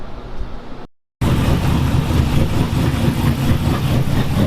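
A Jeep engine idles loudly and steadily just after being started, a close, continuous low rumble that briefly cuts out before resuming.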